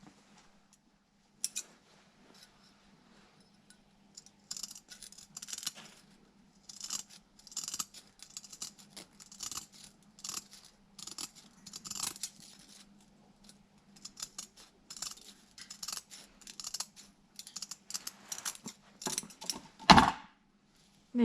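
Scissors snip through sandpaper discs for a DA sander in repeated crisp cutting strokes, close and fairly quiet, with brief pauses between bursts and a faint background hum.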